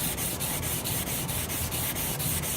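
A chef knife blade is sanded by hand with steady back-and-forth strokes, a dry rhythmic scratch repeating about every quarter second, close and alone.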